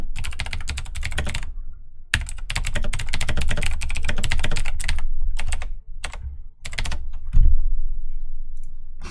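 A computer keyboard and mouse rattle during a DotA 2 game, with bursts of rapid, close keystrokes and clicks, brief pauses between flurries, and a low hum underneath.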